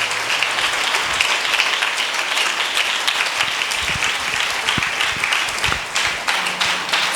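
A church congregation claps and applauds during a firstfruits feast service, a continuous dense patter of many hands with a few sharper, louder claps standing out near the end.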